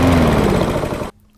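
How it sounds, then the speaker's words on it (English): A BMC Big 20 lawnmower engine runs loud and close with a rough, steady mechanical chug before it cuts off abruptly, leaving near silence. "Big 20 lawnmower up and running."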